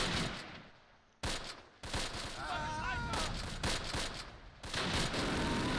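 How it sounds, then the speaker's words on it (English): Mortar barrage and gunfire in the Close Combat World War II strategy game: loud bursts of explosions and rattling shots come in dense, abrupt blocks separated by brief drops to quiet, with a faint whistling tone midway. "Good effect from the mortar barrage."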